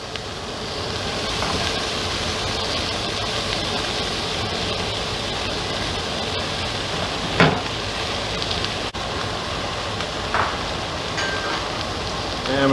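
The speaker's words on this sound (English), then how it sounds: "And we're going to let those saute for a few minutes." Garlic sautéing in butter in a pan for beef stroganoff, a steady, even sizzle and crackle that holds for the whole stretch with a few faint clicks, no talking over it.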